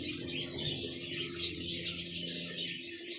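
Pigeons in a rooftop loft setup make soft cooing and chirping calls, close and fairly steady, layered over a low continuous hum with no talking.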